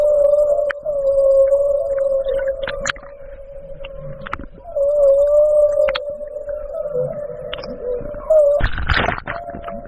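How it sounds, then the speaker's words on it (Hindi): Humpback whale song in the deep sea: a long, sustained eerie moaning tone that wavers and slides in pitch, loud and continuous, with scattered clicks and a burst of noise near the end. "यह साउंड हम्पबैक व्हेल के द्वारा निकाली जाती है, लेकिन यह सुनने में किसी हॉरर मूवी के म्यूजिक की तरह लगती है"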